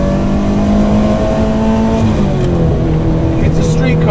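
A turbocharged Ferrari 308 engine revs hard up close on a racetrack, its pitch climbing and dropping through gear changes as the car drives fast.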